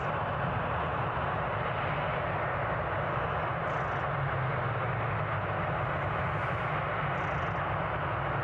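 An airliner taxis back along the runway at Newcastle Airport, a steady distant engine rumble and broad whooshing roar holding evenly throughout with no speech.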